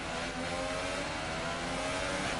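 A Formula One race car engine in the F1 2018 video game holds a steady high whine for a couple of seconds, loud and continuous, with no talk.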